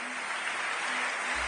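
Loud, dense applause and cheering from a church congregation, a continuous wash of clapping filling the whole moment with no speech.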